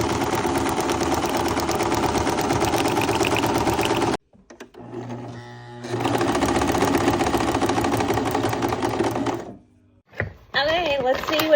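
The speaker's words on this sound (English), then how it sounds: "Now I'm going to back stitch over that handle just to make it stronger." A sewing machine back stitches over the handle of a tote bag made from a grain bag. Two close, steady runs of rapid mechanical stitching are split by a brief pause, and a shorter burst comes at the end.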